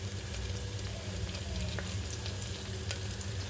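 Onion and curry leaves fry in a pan with a steady, crackling sizzle and the occasional scrape of stirring, close by and fairly quiet, with no voices.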